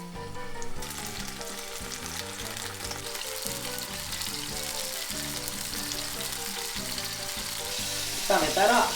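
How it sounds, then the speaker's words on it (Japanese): Halved cherry tomatoes frying in a hot pan give a steady, close sizzle with occasional stirring scrapes, and a louder burst of crackling near the end. "プチトマト半分にカットして しっかり炒めましょう"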